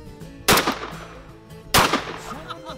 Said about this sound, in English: We're definitely bringing a shotgun again.